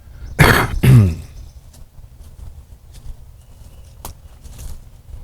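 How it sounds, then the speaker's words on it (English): Two harsh, close coughs in quick succession, followed by quiet room sounds and a faint click. "I need to cough again."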